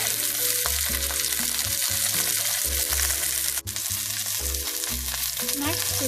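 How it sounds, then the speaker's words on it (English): Lamb shanks browning in a hot pot, a loud, steady sizzle and frying crackle running throughout, close up, with occasional stirring and no talk. "And we are going to brown these on all sides."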